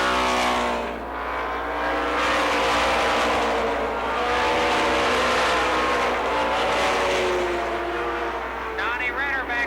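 Race car 82 runs laps on a speedway track, its engine droning steadily and loudly throughout, with engine pitch sweeping as it passes and other cars audible, under continuous commentary.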